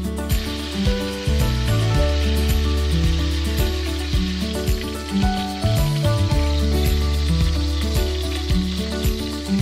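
Beef short ribs sear in hot oil with a steady, crackling sizzle beneath background music that plays throughout.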